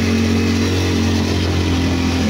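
A 218cc Yamaha Mio scooter engine revving loudly and steadily up close, a droning buzzy tone that holds then eases slightly, with no talking.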